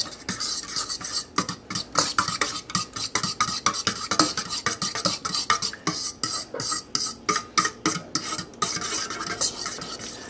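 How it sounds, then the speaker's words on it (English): Salt, cayenne and black pepper stirred together in a bowl, a run of quick, rhythmic scraping strokes close up, growing more regular toward the end. "a teaspoon of salt, and just a smidge of cayenne. Mix them all together."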